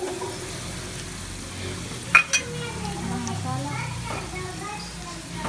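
Red chilli goes into hot ghee that already holds fried onions, giving a steady, close sizzle under talk and faint children's voices. A couple of short clinks come from stirring.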